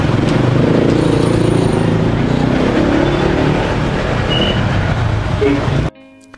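An old four-wheel-drive vehicle grinds along a rough, unpaved road toward Ciptagelar village, giving off a loud, steady rumble of engine and road noise that cuts off abruptly near the end.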